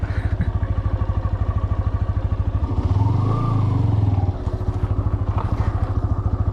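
A TVS Apache RTR 160 2V BS6 motorcycle is ridden off-road in first gear, the clutch released without throttle. A close, steady, rapid engine thump continues throughout and swells briefly to a deeper rumble midway.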